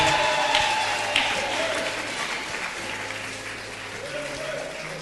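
Sustained applause from a church congregation honoring a newly appointed Anglican lay canon in Tanzania, dense and steady clapping that gradually softens, with faint voices underneath.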